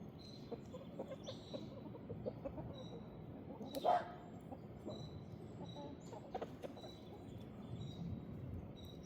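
Backyard chickens clucking softly and steadily while pecking at leftovers, close by, with a brief louder squawk near the middle and faint bird calls above.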